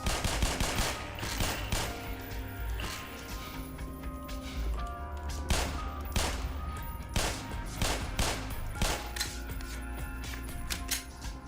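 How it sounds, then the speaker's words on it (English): Glock pistol fire in the shooter Black Mesa, a steady run of loud, sharp single shots at a slow, fairly even pace, with other fire and game noise beneath. "The Glock is really slow firing."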